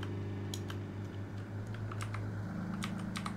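Typing on a computer keyboard while playing Road Maintenance Simulator, several scattered, fairly faint key clicks over a steady low hum, with no voice.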